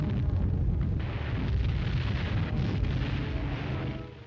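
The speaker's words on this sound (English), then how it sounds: "A Japanese oil dump gets a direct hit." A Japanese oil dump bursts apart under a direct shell hit on Iwo Jima, a sustained, loud, roaring blast with deep rumbling that fills the scene continuously without letup.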